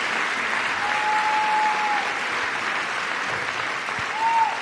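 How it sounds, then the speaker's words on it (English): Audience applause at a political speech by President Trump, a steady wash of clapping from a large crowd that holds evenly throughout and swells slightly near the end. "why do people applaud like that, right?"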